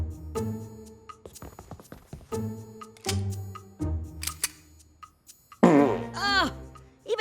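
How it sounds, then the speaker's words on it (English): Cartoon flatulence effects burst out in short squeaky blasts, several spaced through the scene, then a longer wobbling rising-and-falling toot near the end, with a voice speaking between them. "Oh, even his farts smelled like maple syrup."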